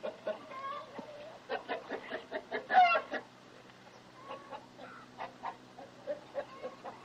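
Several chickens cluck in short, irregular bursts, fairly close and moderately loud, with one sharper squawk partway through; no talking is heard.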